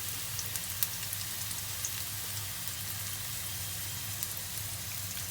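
Quail egg wontons fry in oil with a soft, steady crackling sizzle and scattered faint pops, fairly quiet and continuous throughout.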